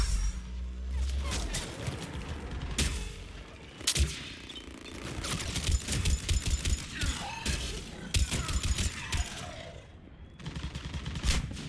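Collector SMG in the multiplayer shooter Mass Effect 3 fires in repeated rapid bursts, dense crackling volleys with sharp transients scattered across the span, mixed with other combat noise and effects at moderate loudness.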